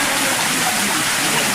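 Water wells up from below at a stream beside a temple, a steady loud rushing wash of broadband noise with no pauses and no voices.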